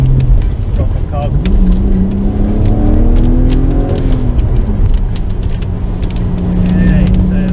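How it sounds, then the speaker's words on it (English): BMW N54 engine with 53,000 miles accelerates hard from inside the car, revs rising and dropping through gears with short whooshing bursts of the dump valve, loud and close, with someone speaking over it. "I'll just test to see if the dump valve works."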